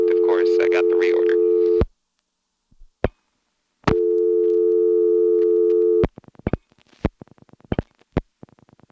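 A step-by-step telephone exchange, an XY step office from 1977, sends a reorder tone in two steady steady-pitched bursts, followed by a run of switching clicks and relay chatter.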